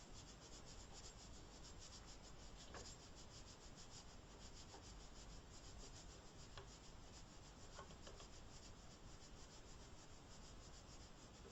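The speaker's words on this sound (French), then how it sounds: "on va gentiment tendre la cale jusqu'à ce que ça frotte légèrement" A paper shim sliding and rubbing lightly beneath a 3D printer nozzle over the heated bed. It makes a very faint continuous scraping rasp with a few small ticks, and no voices.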